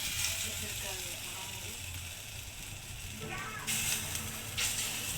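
Lentil fritters made from masoor dal fry in hot oil with a steady crackling sizzle, brightening into louder hissing bursts toward the end, while a person talks over them.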